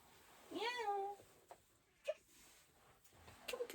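A pet cat gives a couple of short meows indoors during a cozy reading session, with a brief mewing call early and fainter chirps later amid quiet room noise.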